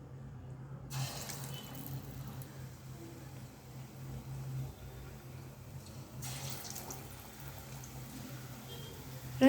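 Potato bondas fry in hot oil with a soft, even sizzle that runs without a break, fairly quiet and close, with no talk over it.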